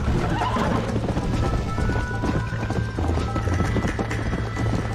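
Hoofbeats of a galloping horse clop steadily and loudly in the game Red Dead Redemption, with a whinny breaking through near the start over a constant low rumble and faint game music.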